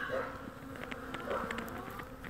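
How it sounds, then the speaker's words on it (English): Honeybees buzz closely around a beekeeper checking a hive for a released queen, a continuous droning hum with individual bees swooping past the microphone. "God, I'm just covered in bees."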